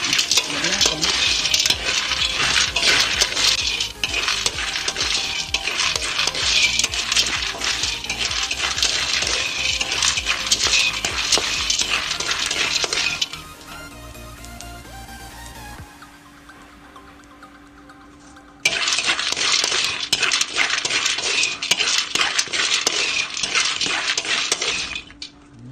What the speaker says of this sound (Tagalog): Pinalit ko na sa kawa at akin na siyang isasangag.